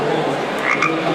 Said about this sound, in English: So here's the frog.